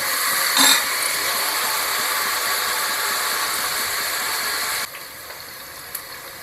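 Onions sizzle in a pan with salt while cooking for mutton biryani, a steady, bright hiss that drops suddenly to a quieter sizzle partway through, with a brief clatter near the start.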